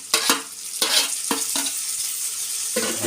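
Tomatoes dropped into onions frying in a pan, a steady loud sizzle broken by several scraping stirs and clatters.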